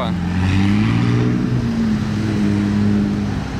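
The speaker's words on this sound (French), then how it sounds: "une autre McLaren très sympa, 675 LT Spider" A McLaren 675 LT Spider supercar on the road in Monaco during Grand Prix time, a loud sustained engine drone with a slowly shifting pitch, close by, with a voice talking over it.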